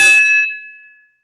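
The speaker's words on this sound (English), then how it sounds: "I've started dinging a glass now because my phone bell wasn't very good" A glass struck once as a speaking-time bell at a candidates forum, giving a single clear ring that decays over about a second, close and alone with no talk.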